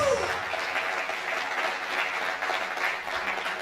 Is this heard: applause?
yes